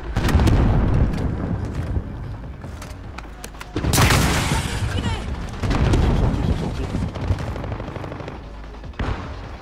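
Video game gunfight in Call of Duty Modern Warfare with a rocket blast: heavy booming explosions and rattling automatic gunfire in bursts, loud and close.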